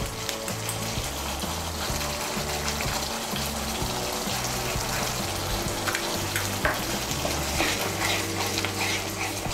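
Spice paste mixed with yogurt and salt fries loudly in a pan for a Bengali katla fish curry, with a steady sizzle and repeated scraping stirs and no voices.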